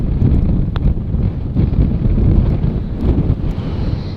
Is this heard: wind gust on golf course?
yes